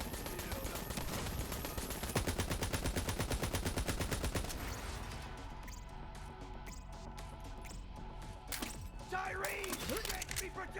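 Turret fire in Borderlands 3: a dense, fast stream of loud automatic shots that later breaks into sparser bursts and scattered impacts, with voices talking over the gunfire.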